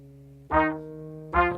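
A layered, looped horn sample from a software orchestral instrument preset plays twice with soft, rounded attacks over a sustained synth-like drone, each brassy swell fading into the held tone beneath.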